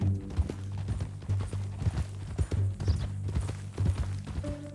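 Horse hooves clip-clop at a steady walking rhythm in Red Dead Redemption 2, close and clear over a low sustained hum, with no voices.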